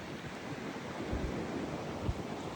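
Wind gusts roar during a New England blizzard in Connecticut, a broad buffeting rush with low thumps of wind hitting the microphone, strongest around the middle and end.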